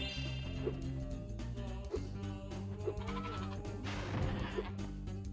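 Goat enemies in Spyro 2 at the Winter Olympics level bleat repeatedly, several wavering cries spaced about a second apart over the game's continuous music.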